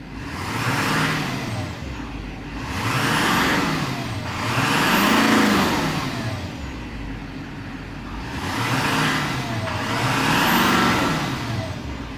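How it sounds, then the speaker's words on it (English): A 2009 Chevrolet Silverado 3500HD with the Duramax diesel engine revving in repeated swells, about five rises and falls in twelve seconds, loud and close with no talking. "Beautiful sounding engine."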